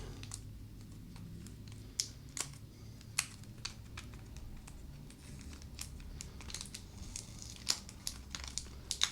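A sticker on the outer sleeve of packaging for a pencil box is torn through, giving crinkly paper crackles and sharp tearing snaps close up, scattered across the clip over a low steady background hum.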